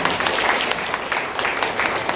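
A church congregation applauding during a service, dense sustained clapping filling the whole short stretch with a faint murmur of voices beneath.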